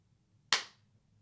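A single sharp hand clap made to sync a podcast recording, one crisp close snap with a short decaying tail in an otherwise quiet room.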